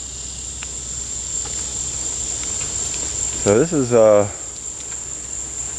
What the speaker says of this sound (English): you might be able to hear the water running and the cicadas